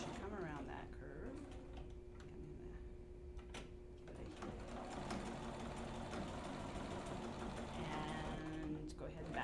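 A sewing machine stitches steadily around the curved edge of a collar sample, a continuous mechanical whir with a constant hum throughout, running beneath a voice.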